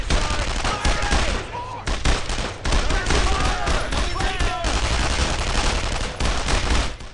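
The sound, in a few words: tank firing in battle, Brothers in Arms: Road to Hill 30 video game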